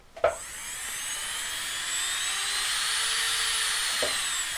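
A power drill used for jewellery making whirs steadily at high pitch for several seconds, starting with a sharp click and ending with another, close and fairly loud.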